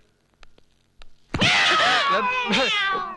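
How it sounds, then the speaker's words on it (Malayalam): A cat in a house, heard in a comedy film scene, gives a loud drawn-out meow after a few faint knocks and clicks. "പൂച്ച പൂച്ച പൂച്ച, കിച്ചണി പൂച്ച"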